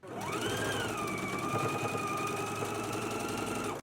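A sewing machine basts fabric close to the edge along a pressed fold line, giving a loud, continuous motor whine that rises in pitch at the start and then holds steady until it stops abruptly.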